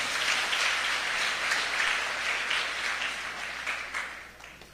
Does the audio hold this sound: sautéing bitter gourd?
no